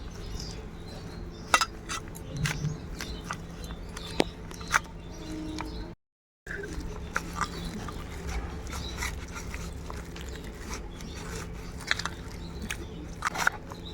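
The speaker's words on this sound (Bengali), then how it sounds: "এবার আলুটা মাখা করবো" Boiled potato is mashed by hand for fuchka filling, giving soft, squishy, sticky squelches in an irregular rhythm, close and quiet, broken by a brief pause midway.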